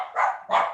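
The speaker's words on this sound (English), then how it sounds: "That's my dogs." Household dogs barking at close range during an online meeting, two quick barks with the start of a third, loud and with no talk over them.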